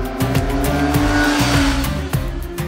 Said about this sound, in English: it moves with urgency the moment you slot it into first and accelerate it through the gears